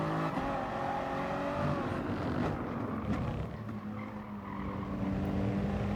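Toyota GR Supra Gr.3 race car in Gran Turismo sliding through a corner at Interlagos, with a continuous engine drone and screeching tire squeal that swells and fades, with no talk over it.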